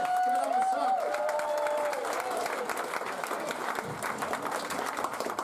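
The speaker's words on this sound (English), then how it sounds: "Some applause, please, for Sun Wallace" Audience at a comedy festival new-act final applauds a comedian taking the stage, a steady dense clapping with some cheering, while a voice speaks over the start of it.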